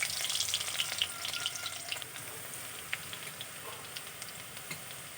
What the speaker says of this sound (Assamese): এতিয়া মই দিম পিঁয়াজ, কাটি থোৱা পিঁয়াজ দিছোঁ।